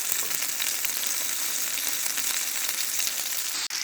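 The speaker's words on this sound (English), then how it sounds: "I've started pan roast before I throw that in." Steady loud sizzle of something pan roasting in a hot frying pan, continuous and close, with a brief scrape near the end.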